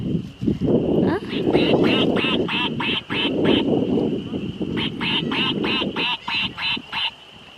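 A duck quacks on a nature reserve trail in New Jersey, with two bursts of rapid, evenly spaced quacks close by while people talk underneath.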